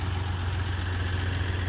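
The 2018 Ram 1500 Limited with the EcoDiesel 6-cylinder turbo diesel engine idles with a steady, close, low diesel rumble and an even hum throughout.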